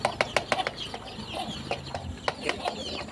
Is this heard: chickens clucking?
yes